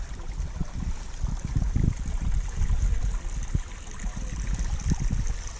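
Water pours from a brown pipe and runs downhill along an Appalachian Trail campsite, a steady close gurgling trickle with uneven splashy pulses and no voices.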